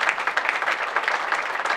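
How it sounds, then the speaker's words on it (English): An audience applauds at a startup community event, a dense patter of many hands clapping at a steady level throughout this short burst. "So first, a round of applause for the E-Factory and for Lake Cups."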